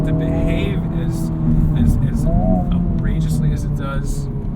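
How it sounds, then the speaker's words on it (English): A 2023 Honda Civic Type R's engine drones steadily from inside the cabin while driving, with a rising harmonic tone as it pulls and a voice talking over the continuous road and engine noise. "I was not expecting this engine to be so responsive."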